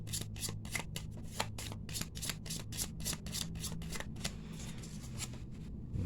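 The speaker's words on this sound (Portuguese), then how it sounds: "vamos voltar a embaralhar" A deck of Gypsy oracle cards mixed with tarot cards is shuffled by hand in a quiet room, giving a quick run of soft, evenly spaced riffling flicks that carry on steadily from start to finish.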